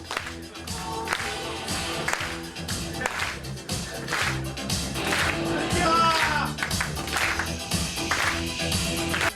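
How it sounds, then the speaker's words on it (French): An audience at a hypnosis stage show claps and cheers along with loud music. The applause comes in sharp, bright bursts that are mixed with voices and the beat. "Les applaudissements vont crépiter."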